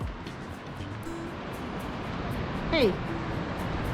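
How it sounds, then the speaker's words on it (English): Ocean waves at Gulf Shores on a windy day: a steady, distant wash of surf forms a broad hiss throughout, with a brief spoken word near the end. "Look at the waves out there."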